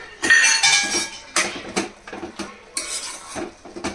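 A lid is set onto a pot of carrot halwa simmering in milk with cashews, almonds and raisins. Several close, loud metallic clanks and rattles come in short bursts, then settle.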